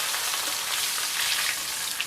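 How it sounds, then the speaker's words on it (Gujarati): Sesame seeds pop in hot oil with mustard seeds, asafoetida and curry leaves for Gujarati bottle-gourd muthiya, giving a brief, steady, close sizzling hiss dotted with tiny crackles. "તલને ફૂટવા દેવાના."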